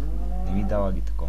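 A cow moos in Minecraft, the Evilcraft server, its drawn-out low call sitting under someone speaking Bulgarian over steady background hum.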